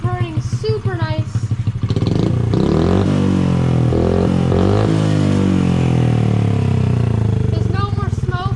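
A freshly tuned dirt bike engine runs loud and close, revving up and settling back in rising and falling surges, with a voice speaking briefly at the start and end.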